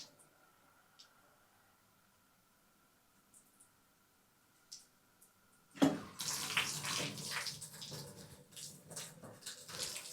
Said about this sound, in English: Let's turn the shower on.